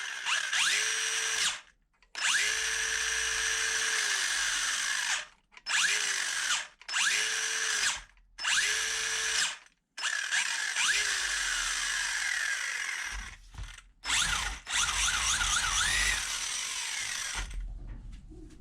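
Remo Hobby 1625 brushless short course RC truck motor revving on the throttle, a series of loud high-pitched whining bursts that rise and cut off sharply, separated by short silences, with quicker stuttering blips near the end.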